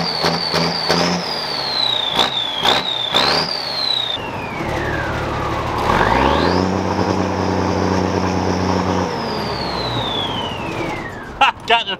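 Turbocharged engine of a Deuce and a Half military truck, its turbo whistle rising and falling in pitch through several revs, then a long sustained high whine that slowly winds down as the engine is cut; loud and close, no talk.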